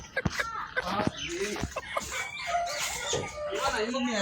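Ornamental chickens crow and cluck in a busy poultry yard, with several short calls and a rooster crow overlapping near the microphone amid background chatter and bird noise.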